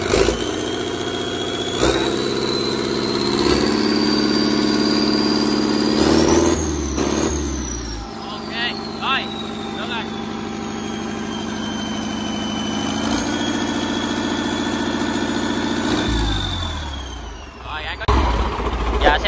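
A Yanmar 4CH-ST four-cylinder turbo diesel boat engine, 160 hp, runs loudly up close, a rough steady idle with revs rising and falling, a whining turbo spooling up and down, and the engine cutting out near the end; voices speak briefly.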